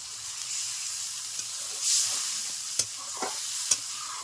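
Pangas fish masala being stir-fried in a pan, with a steady broad sizzle and a few sharp spatula scrapes and clinks scattered through, close and fairly loud, no talking.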